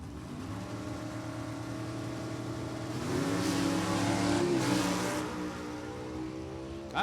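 A Ford Mustang GTA automatic drag race car accelerates hard down the strip, its engine rising in pitch and swelling louder in the middle before easing off, heard alone without talk.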